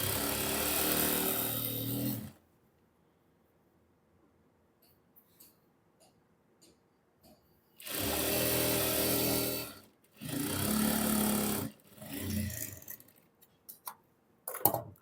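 A sewing machine stitches a palazzo seam, with a double row of stitching, in three loud running bursts separated by quiet gaps and a few faint handling clicks.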